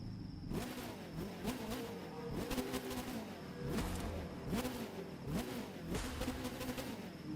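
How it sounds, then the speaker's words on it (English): A Mini Cooper S Checkered Edition touring race car in the video game The Crew 2 revs repeatedly, its engine note climbing and dropping in a steady rhythm. The revs are close and moderately loud, with no talk over them. "let's take a listen to this engine"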